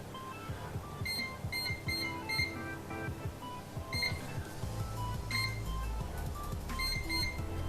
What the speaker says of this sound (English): we'll set the timer for 45 minutes